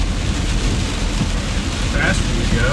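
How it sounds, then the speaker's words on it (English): Heavy rain drums steadily and loudly on a car windshield while driving, a dense continuous hiss and patter with the low rumble of the moving car beneath it. "The faster you go, the heavier the rain is, right?"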